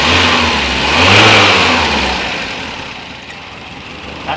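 A VW Mk1 Rabbit Pickup engine runs at a fairly high idle, a steady hum that swells briefly, then eases back and fades lower.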